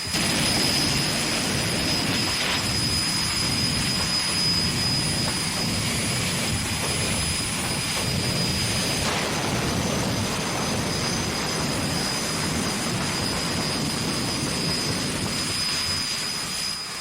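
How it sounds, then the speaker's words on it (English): Jet engine of a jet-powered drag racing car roars steadily at close range at a raceway, a loud continuous rushing blast with a high whine on top. "the brand new 93 Camaro of Mr. Mike Evagines, another veteran of the jet jockey wars at Raceway Park"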